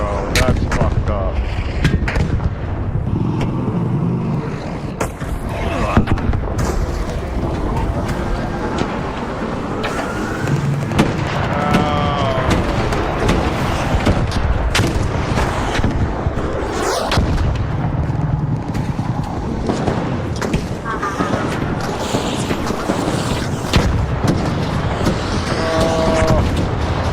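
Gunfire and heavy booms in the video game Arc Raiders, loud repeated shots and blasts over a constant dense mix of game noise, with voices talking at times.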